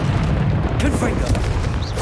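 A Confringo blasting spell goes off in Hogwarts Legacy, a dull booming burst over steady rumbling background noise, short and fairly muffled.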